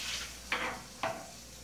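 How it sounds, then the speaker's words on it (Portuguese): Bacon in a pan with a little oil, two sharp spatters about half a second apart rising over a continuous soft sizzle, close and fairly quiet. "Esperar fritar bem e eu já volto com o próximo passo."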